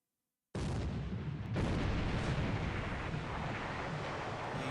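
Naval gunfire in a Pacific war strategy game: a sudden heavy blast after silence, a second boom moments later, then a long rumbling roar that slowly fades.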